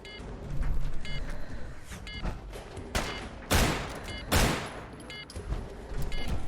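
Gunfire in a video game, several sharp loud shots spaced irregularly, each with a brief decay, over a busy background of game noise.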